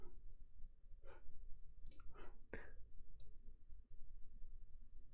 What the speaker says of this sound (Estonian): teen ühe kliki, parem klikk